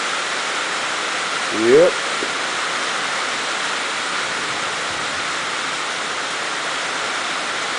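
Water pours steadily through the waterfall reservoir of an Antec 1200 PC case, a close, constant broad rushing hiss, with a single brief spoken word near the start.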